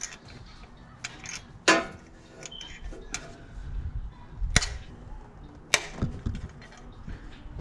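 A wrench breaks loose a tight 5mm valve cover bolt on a Honda S2000 engine, giving a few sharp, close cracks and pops amid quieter clicks of tool handling, with no voices.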